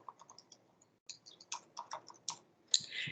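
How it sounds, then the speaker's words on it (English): Someone types a name on a computer keyboard: a quiet, irregular run of crisp key clicks in small bursts, ending with a louder final key press, with no talking. "I'm going to type my name here."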